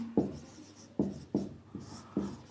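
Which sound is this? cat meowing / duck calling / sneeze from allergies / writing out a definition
writing out a definition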